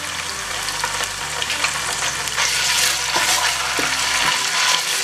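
Ginger garlic paste frying in a pan for chicken tehari, a steady close sizzle with stirring scrapes throughout, no talking.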